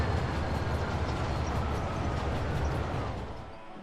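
Rumbling rail noise of a hijacked express train in the Spider-Man 3 video game, a steady dense roar that stays loud before easing slightly at the end.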